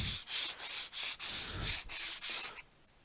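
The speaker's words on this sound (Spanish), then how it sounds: "Proceso de lijado listo." Eight rhythmic back-and-forth strokes of sandpaper rub across a wooden surface, each a close, bright rasp, then the sanding stops and leaves near silence.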